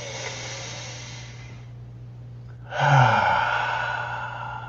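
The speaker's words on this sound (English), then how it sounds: "Take a nice deep breath." A single deep breath: a long, soft inhale, a brief pause, then a louder, fuller sighing exhale, close and clear with no talking.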